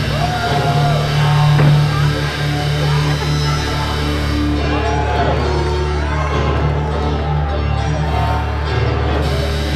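A wrestling audience shouts and reacts in a hall, a loud, steady crowd roar with scattered yells and whoops, with some voices talking throughout.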